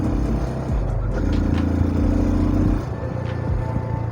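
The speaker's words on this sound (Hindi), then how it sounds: "इंजन वाइब्रेशन देखते हैं इसके इंजन की रिफाइनमेंट कैसी है।" Yamaha FZS 25 BS6 motorcycle engine running steadily nearby, a low rumbling idle with a slight rise in revs midway before settling back, heard alone without talk.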